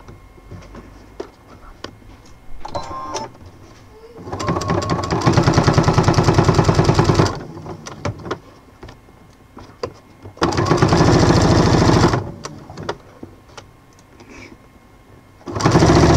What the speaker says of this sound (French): C'est parti pour le coudre.